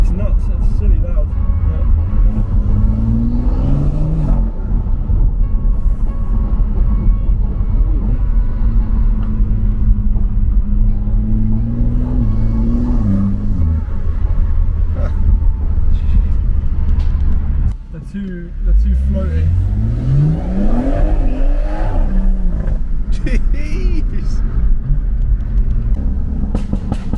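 A car with a Wagner downpipe, Stage 3 tune and loud intake revs repeatedly, its exhaust climbing and dropping in drawn-out sweeps over a heavy, booming idle, with a brief dip before a sharp final rev; voices talk nearby.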